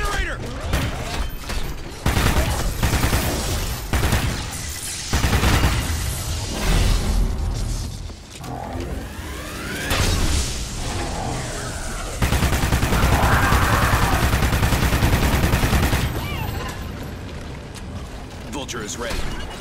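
Dense gunfire in the Call of Duty: Ghosts Exodus mission: sustained automatic bursts and heavy volleys crackle almost nonstop, loud and close, with booms and game voices shouting between them.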